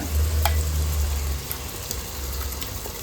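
Ground masala paste with green and red chillies frying in a pan for mushroom gravy, a steady close sizzle with a few faint scraping stirs, fading a little partway through.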